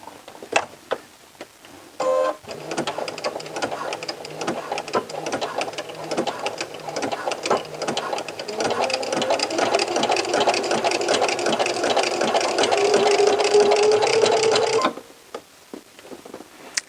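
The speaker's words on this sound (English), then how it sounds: "So let's go ahead and sew the hem all the way around" A sewing machine runs steadily, stitching the hem of a sweater all the way around in one long continuous pass, loud and close, with a brief start and stop at either end and no talking.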